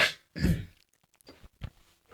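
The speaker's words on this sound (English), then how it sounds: "sorry, can I cough?" A single throaty cough followed by a few quieter breaths and small throat noises, close to the listener.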